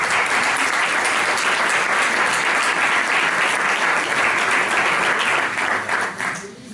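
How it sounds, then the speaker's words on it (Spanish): A lecture audience in Seville breaks into loud, dense applause, close and sustained for several seconds before tapering off at the end. "Yo pido para la universidad un fuerte aplauso."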